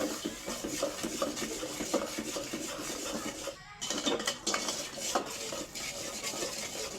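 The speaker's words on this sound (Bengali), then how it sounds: "এখন সম্পূর্ণ মশলাটা সুন্দর করে ভেজে নিতে হবে" Ground spice masala for a chicken curry is stirred in a pot, a spoon scraping and clinking against the metal in a steady rhythm over a faint low frying hiss, close and without voices.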